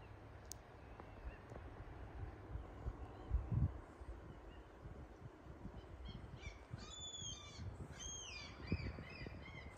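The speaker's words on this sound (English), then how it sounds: "birds singing, chirping. They are very happy, flying around." Birds call in the open air of North Norway under the midnight sun, faint and distant over a low outdoor rumble, with a cluster of sharp chirps and squawks near the end.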